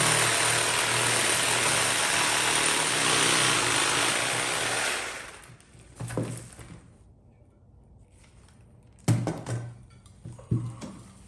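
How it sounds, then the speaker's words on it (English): A small 12-volt reciprocating saw cuts through a large Japanese maple bonsai root, a loud continuous buzzing rasp that stops after about five seconds, followed by a few scattered knocks and handling sounds. "Tool of choice for some people is a little sawzall here."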